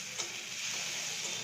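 Ginger, garlic and green chilli paste sizzles in a pan, a steady soft hiss of frying with faint stirring ticks, quiet and close, no voices.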